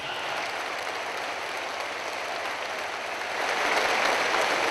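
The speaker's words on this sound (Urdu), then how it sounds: "بھرپور تالیاں۔" An audience gives a standing ovation, sustained dense clapping that swells slightly louder near the end, steady and close with no speech over it.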